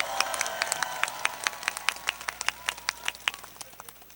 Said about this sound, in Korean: 큰 소리로 박수치고 환영해야 됩니다.